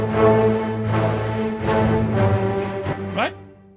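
Palette Orchestral sample library drive group with staccatissimo brass and spiccato low and high strings in a pulsing, driving rhythm, with short accented hits, close and fairly loud.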